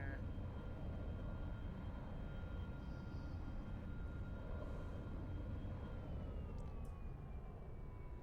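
Steady broadband drone of a simulated aircraft engine in the X-Plane flight simulator during a localizer approach to Mostar, constant and fairly loud throughout with a faint rising tone near the end.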